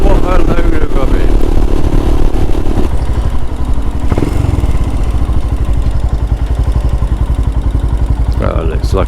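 A Sinnis Terrain 125 small motorcycle ridden on the road, its engine droning loud and steady up close with wind buffeting, a brief rise in revs partway through.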